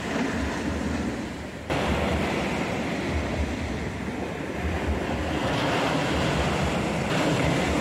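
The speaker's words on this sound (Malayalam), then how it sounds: "ആദ്യം നല്ല തിരയാണ്ട്, നല്ല ഫോഴ്സ് അടിച്ച് തരുന്നേ." Strong sea surf crashes and roars continuously at a festival beach in Vypin, loud and close with heavy wind buffeting the microphone, rising in a fresh surge partway through.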